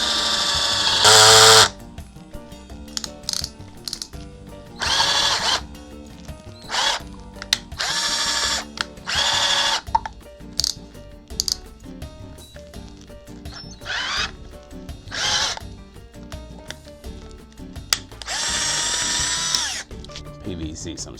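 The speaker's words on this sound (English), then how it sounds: "Just drill a hole straight through," A power drill bores through a PVC cap, whirring in repeated short bursts of varying length, loud and close, with brief pauses between runs.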